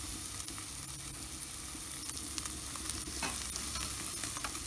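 Ribeye steaks sizzle on a wood-fired Watchman stove, a steady, close, dense frying hiss that runs unbroken with small pops and crackles.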